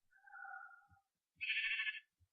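Sheep in the Minecraft video game give two short bleats, one lower and one higher and brighter. Soft game footstep thuds sit between and after them, with no speech.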